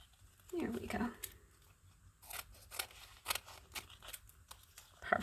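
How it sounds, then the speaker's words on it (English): Old scissors cut through magazine pages in a series of sharp, close snips and crisp paper rustles, spaced irregularly across the clip, with a voice faintly audible near the start. "Let's get some old scissors instead of new scissors because there's glue stick on that."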